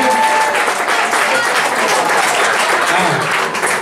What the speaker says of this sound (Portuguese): Uma grande salva de palmas para o casalinho que hoje faz 29 anos de casados